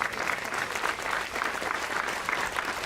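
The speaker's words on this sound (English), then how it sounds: "Let's give Jim a round of applause" A civic band concert audience breaks into a brief, full round of applause for the band's conductor emeritus, dense clapping that stays fairly loud and steady throughout.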